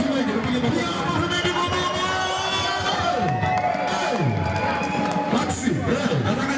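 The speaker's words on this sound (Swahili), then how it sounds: "Tupige makofi mengi, tupige makofi." An audience at a live university concert competition shouts and cheers loudly in a dense, continuous crowd roar, with whoops and voices rising and falling throughout.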